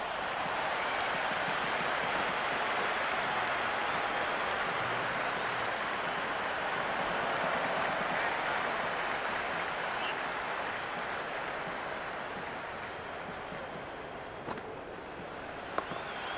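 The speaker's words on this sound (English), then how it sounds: "It's evident and ever so audible that the crowd is at near bursting point at today's play." A stadium crowd roars in the cricket video game Cricket 26 during an India versus New Zealand match, a broad continuous wash of noise that holds steady and eases slightly toward the end.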